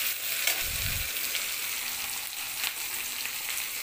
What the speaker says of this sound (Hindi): सारी सब्जी को हमने हल्का ही फ्राई करना है,